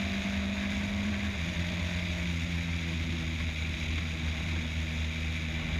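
A race car engine droning steadily at high revs on a push lap at a Northern Ireland circuit, heard from inside the car, a constant loud hum with a slight pitch shift partway through.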